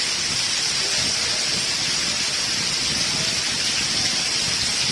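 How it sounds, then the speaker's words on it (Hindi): Steady rain pours down on Shershah Landa market in Karachi in a dense, even hiss that continues unbroken, with no voices. "कराची में फिर से जो है ना बारिश शुरू हो गया"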